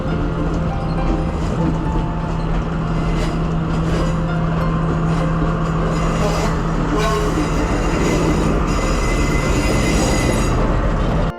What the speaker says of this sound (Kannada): ಫೈನಲಿ ಟ್ರೈನ್ ಬರೋದು ನೋಡಿದ್ವಿ.